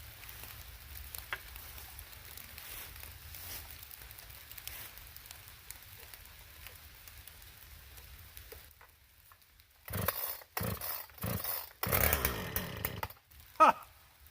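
Husqvarna 455 Rancher chainsaw with a muffler mod: after a stretch of low, steady rumble, a few sharp pull-start bursts leave the engine catching and revving loudly in short, uneven blasts.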